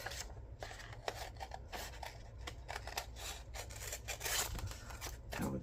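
Scissors snip and rub through paper while making a junk journal, a quiet, close run of crisp cuts and rustling scrapes at an uneven pace.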